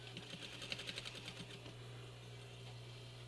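A sewing machine runs a short burst of rapid, even needle strokes while top stitching a fabric medical mask, then slows and stops, leaving low hum; quiet and close.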